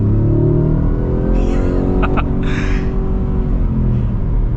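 A loud 5.2-litre engine, from a 2024 Ford Raptor R pickup truck, roars steadily with deep rumbling tones, revving higher midway as the truck accelerates.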